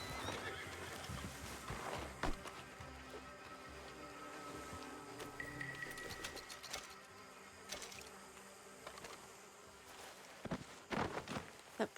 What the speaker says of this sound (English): That poor horse.